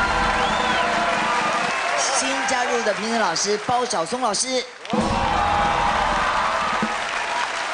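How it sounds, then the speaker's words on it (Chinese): A studio audience at the Super Idol singing competition gives a burst of applause to welcome the judging panel, with clapping at the start and again at the end while a host speaks over it in the middle. "我们先掌声鼓励欢迎我们的超级评审团"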